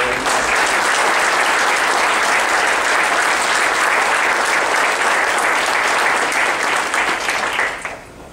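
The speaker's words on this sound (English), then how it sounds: "I'd like to give them all one more big round of applause" Loud, sustained applause from a banquet crowd honoring athletes, dense clapping holding steady for several seconds before tapering off abruptly at the end.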